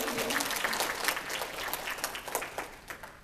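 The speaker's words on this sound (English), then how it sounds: "Round of applause for you." Applause from a panel audience at a K-pop convention, a dense wash of many hands clapping that carries on steadily and thins slightly toward the end.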